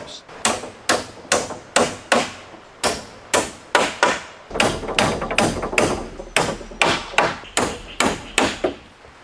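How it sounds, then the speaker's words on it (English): Vertical wooden battens hammered onto a timber shelter in a forest, some twenty loud, close blows landing in a steady rhythm with short pauses, each a sharp crack of metal on wood. "He secures the vertical battens, spacing them with precision"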